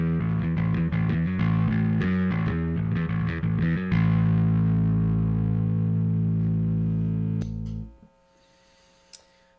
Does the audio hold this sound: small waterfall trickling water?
no